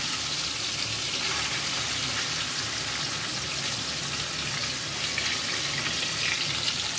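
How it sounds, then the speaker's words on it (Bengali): Rohu fish pieces frying in hot oil in a pan, a steady close sizzle and crackle with no talk over it. "মাছটা ভাজা হোক"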